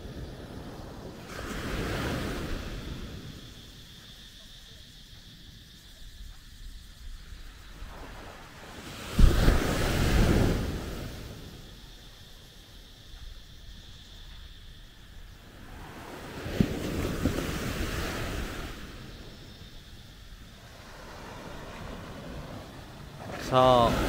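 Strong ocean waves surge and crash on Natai Beach in Khao Lak, swelling in three big washes against a steady surf roar and wind, with faint voices in the background.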